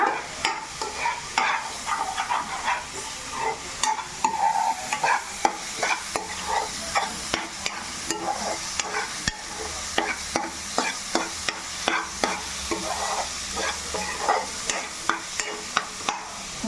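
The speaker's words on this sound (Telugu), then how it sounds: "మనం చక్కగా ఇలాగ మసాలాతో కూడా ఇలా వేపేసుకుంటే ఆ పచ్చి వాసన అనేది మనకి ఇంకేం ఉండదు" Masala with onions and tomatoes fries in a pan while a spoon stirs steadily, giving rhythmic scraping strokes over a continuous close sizzle.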